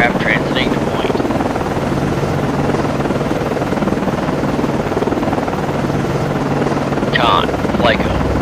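A naval helicopter orbits a guided-missile cruiser in the Cold Waters game, its rotor a loud, steady throbbing drone that fills the scene throughout. Brief radio-style voice chatter rises over it near the start and end.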